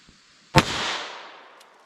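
A single sharp gunshot from a Ruger LCR snub-nose revolver in .32 S&W Long fires semi-wadcutter rounds outdoors, a loud close crack followed by a decaying echo tail, with no voices.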